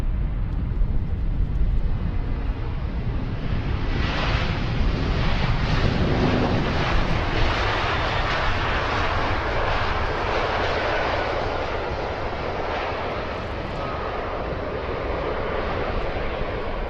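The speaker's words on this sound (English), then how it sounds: "Aer Lingus 321 Neo, and it's the long range variant" Aer Lingus Airbus A321neo long-range variant at Heathrow runway 27R, a loud steady jet engine roar that swells and holds throughout, with some wind buffeting the microphone and no talk.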